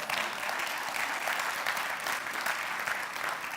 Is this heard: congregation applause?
yes